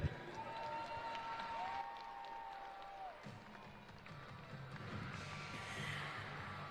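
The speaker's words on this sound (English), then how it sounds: "Let's give Forrest a round of applause." An arena crowd at a Monster Jam event in Hampton, Virginia claps and cheers in a broad, moderate wash, with tonal squeals early on and a murmur of voices mixed in.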